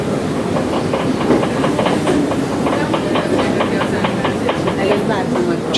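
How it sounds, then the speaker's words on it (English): A modern Budapest metro train rides one stop, with a steady loud rumble and regular clickety-clack of wheels over rail joints throughout; people talk over the rolling noise. "So here is the metro. Looks like they even have a nice new metro since I've been here last time."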